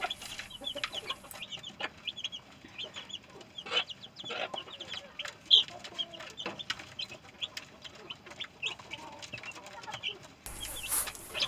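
A mother hen with her young chicks: soft repeated clucks answered by a busy stream of high, thin peeping that continues throughout, close by and fairly quiet.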